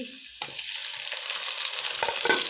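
Half a kilo of chicken fries with lightly browned onions in a pan, a steady close sizzle that starts abruptly after a brief hum and builds slightly, with faint stirring clinks and no talking.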